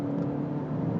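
A 2024 BMW X2 xDrive 28i engine pulls under heavy throttle, a steady, loud, continuous drone with a firm low hum and no break across the short stretch.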